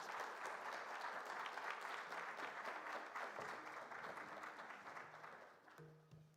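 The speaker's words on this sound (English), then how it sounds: "Let's give them a big round of applause." Audience applause at an education event launching a South African accelerator, a full, even burst of clapping from a seated crowd that gradually thins and fades toward the end, where a voice begins.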